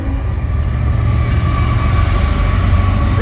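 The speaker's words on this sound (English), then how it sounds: "There's your train for the day." A train rolls past close by, a steady loud rumble with low rhythmic wheel clatter and a sustained tonal hum running the whole time, no talk over it.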